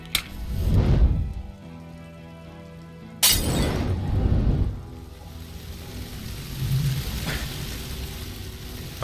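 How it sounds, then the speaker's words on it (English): Glass shatters loudly as a spirit bomb is thrown in the video game Disco Elysium, a sharp crash at the start and a bigger one midway, each followed by a roaring, rumbling swell under a low music bed. "With a crash of shattering glass, a terrible roar, the fire draws in oxygen"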